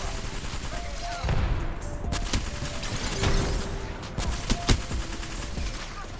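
Video game gunfire in a squad shooter, dense and continuous, with sharp shots and bursts over a constant loud background of in-game noise, close up and mixed with other game sounds.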